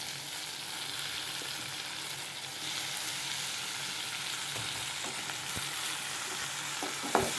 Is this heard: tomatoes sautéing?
yes